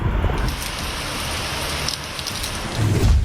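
Heavy rain pours steadily during floods across India, a dense, continuous hiss with rolling thunder; a deep, louder rumble swells near the end.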